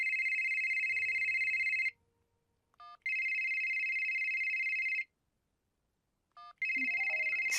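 A telephone rings three times in long electronic trills with short pauses between, clear and close, with a little faint background noise.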